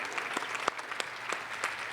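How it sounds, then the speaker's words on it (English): An audience at a press conference for a retiring head football coach gives a short, steady round of applause, many hands clapping densely at moderate distance with a few sharper claps standing out. "how about a round of applause for head coach Gary Pinkel?"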